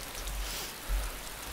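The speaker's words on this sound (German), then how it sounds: "Ich habe heute dem Regen gelauscht." Rain falls steadily in the video game DayZ, a constant broadband patter with a low rumble underneath, and no voices over it.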